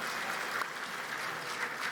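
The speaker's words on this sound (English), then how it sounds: "Round of applause. Round of applause." Audience applause at an Animal Crossing panel at PAX East 2022, a steady wash of clapping from a crowd, moderately distant and fairly quiet, with no talk over it.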